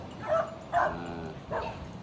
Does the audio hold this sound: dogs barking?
yes